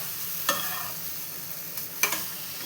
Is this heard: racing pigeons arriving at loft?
no